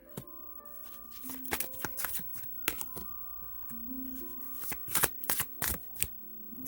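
Thick tarot cards are shuffled and handled close up in sharp bursts of riffling and slapping, with pauses between, over a faint steady background hum; no one speaks.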